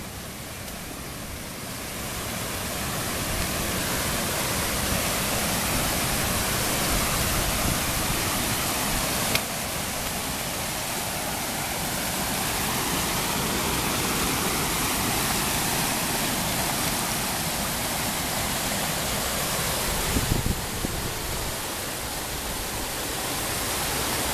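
Floodwater after heavy rain in Razeni rushes in a loud, unbroken roar like a waterfall, steady and close for the whole stretch, with a couple of faint knocks and no speech.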